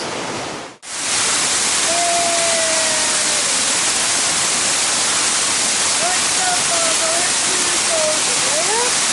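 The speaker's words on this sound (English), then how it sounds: "Waterfalls. Down, straight down." Steady, loud roar of a waterfall in Savage Gulf fills the whole clip, broken by a brief dip near the start, with faint whistling tones drifting over it.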